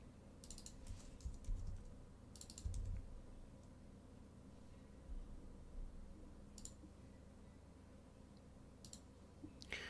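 Keys tapped on a computer keyboard while writing TypeScript code for an interpreted programming language, in short clustered bursts of clicks separated by pauses, faint under a low steady room hum.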